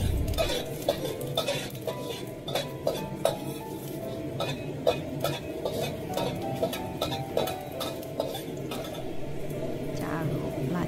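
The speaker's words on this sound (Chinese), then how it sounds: "热锅加油，放入蒜子、姜片炒香" Garlic cloves and ginger slices stir-fry in hot oil in a wok, a steady sizzle broken by frequent clinks and scrapes of a metal spatula against the pan, with a voice talking over the cooking.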